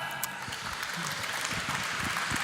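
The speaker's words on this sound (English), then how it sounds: "Let's give a big round of applause for sub for nav." Audience applause at a startup contest final, a steady wash of clapping throughout, moderately loud and slightly distant.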